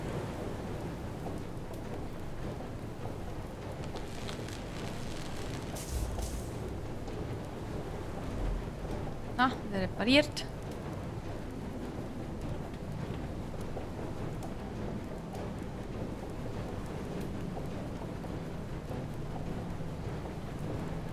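A storm surrounds a sailing boat in a video game, with steady rain and a rumbling wash of wind and water running throughout. A faint rumble of thunder rises midway, and someone briefly speaks.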